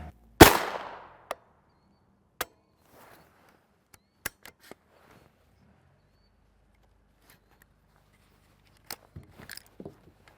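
A PSA ARV9 9mm carbine fires 115gr FMJ rounds in Sterling steel cases: one loud, sharp shot opens the clip, followed by scattered single reports, metallic clicks and a few quieter handling sounds spread across the stretch.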